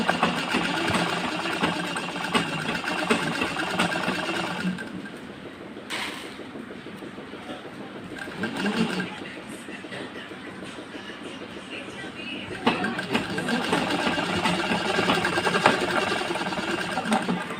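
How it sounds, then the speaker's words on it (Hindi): A sewing machine stitches a blouse seam, a steady close mechanical hum and rattle that eases off midway and then picks up again. "नीचे से सिलाई लगाना शुरू करें।"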